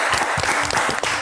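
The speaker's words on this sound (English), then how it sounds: "Give them a round of applause." Brief burst of audience applause, a quick patter of clapping hands from a small group indoors.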